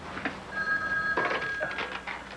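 A telephone bell rings in a steady electronic trill through a quiet room in a daytime soap drama, with faint room noise and no talk.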